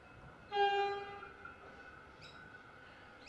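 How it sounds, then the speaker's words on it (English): A suburban train coming into Riversdale station sounds a short, bright two-tone horn blast that fades out quickly. A softer tone follows over a low background rumble. "it looks like we've got a train coming in on, I think, platform 2."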